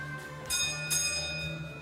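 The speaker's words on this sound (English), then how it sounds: "So when the car pulled in, the bell would ring" A gas station driveway bell rings twice in quick succession, bright metallic strikes with a lingering ring over a steady low background hum.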